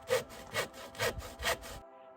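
Wood being sawn by hand in a garden, four steady rhythmic back-and-forth rasping strokes, close and clear, before the sawing stops and a faint tone lingers.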